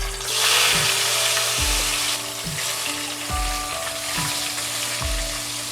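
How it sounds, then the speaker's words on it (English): Eggplant slices shallow-fry in heated mustard oil with a steady, close crackling sizzle, while soft knocks from the pan come at a regular pace of roughly one every second. "I am going to shallow fry the eggplant slices till it becomes nice and golden brown from both the sides"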